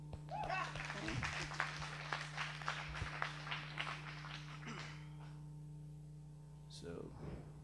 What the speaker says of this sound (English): so please clap for yourself.